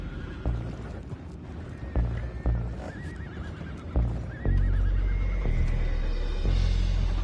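Horses in a video game whinny repeatedly with rising and falling cries, mixed with hoof clops and thuds, ending in a loud low rumble.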